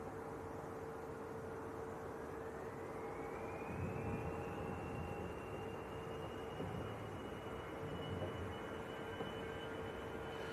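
A Jet2 Boeing 737-300 airliner, 27 years old, sits at Leeds Bradford Airport as its engines give a steady distant whine and broadband roar, with a rising turbine tone near the middle, alone.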